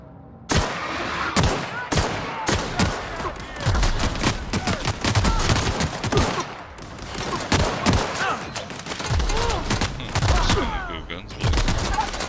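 Gunfire in the video game The Outer Worlds: loud, rapid bursts of shots crack again and again over several seconds, broken by short pauses between volleys.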